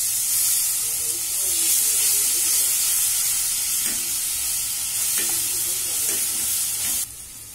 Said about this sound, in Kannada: ಇದು ಬೆಳ್ಳುಳ್ಳಿ ಶುಂಠಿ ಚೆನ್ನಾಗಿ ಫ್ರೈ ಆಗಿದೆ ಪೇಸ್ಟ್